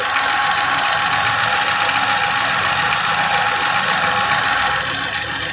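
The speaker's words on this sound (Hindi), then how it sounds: "क्लैपिंग नॉइज़ आ रही है इसके आइडल पोजीशन पे आइडल पोजीशन पे कार अभी खड़ी है" A Tata Nexon facelift's three-cylinder engine idles with the car standing still, giving off a steady, close clattering knock that holds evenly throughout, with no talk.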